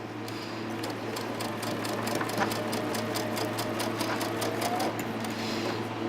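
A sewing machine runs steadily, stitching a quilt block with a fast, even mechanical whirr and rapid rhythmic ticking, close and moderately quiet, with no talk over it.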